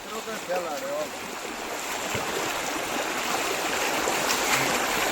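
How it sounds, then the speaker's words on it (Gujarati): Heavy floodwater pours over a broken check dam after rain, a loud continuous roaring rush of water close by, with a person's voice briefly audible early on. "આટલું પાણી આવે હો ભાઈ પાણી તો બહુ સારું આવે"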